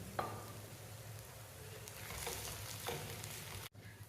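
Spinach frying uncovered in an open pan, a continuous close sizzle with occasional stirring scrapes and clicks, ending in a brief cut before the sizzle resumes; no voices.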